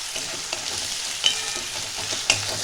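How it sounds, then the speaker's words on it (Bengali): Ginger-garlic paste fries in a pan for a mutton kheema ghugni, a continuous crackling sizzle punctuated by a few sharp spatula scrapes and stirring clatters, close and with no talk. "আমি 1 থেকে 2 মিনিট আদা রসুনটা ভেজে নেব"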